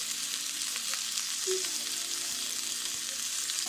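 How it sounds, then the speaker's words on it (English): Jerk salmon frying in a pan, a loud, steady, close sizzle that hisses continuously without a break and carries no speech. "Just let them fry up a little bit, guys."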